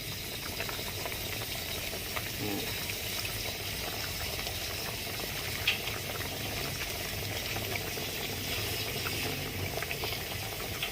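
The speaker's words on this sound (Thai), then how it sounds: "ไฟมันเดือดแป๊บหนึ่งครับผม" Mushroom curry boils steadily in a pot, a continuous close bubbling and simmering that runs evenly throughout with no talking.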